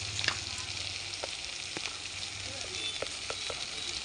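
Spice paste (masala) for a fish curry frying steadily in a pan, a constant broadband sizzle with occasional spoon scrapes and stirring knocks, close and fairly quiet.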